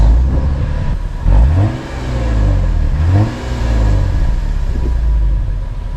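A nearby Lexus IS250 engine revs up repeatedly, rising and falling in pitch as the car accelerates and pulls away.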